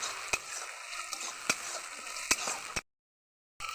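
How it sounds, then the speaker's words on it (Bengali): Ginger and garlic paste frying with onion and a little turmeric in a pan, a steady hiss punctuated by several sharp spatula knocks and scrapes, cut off by a short silence before the sizzle resumes. "আদা রসুনটাকে আমি আবার ভালো করে ভেজে নেবো লাল লাল করে।"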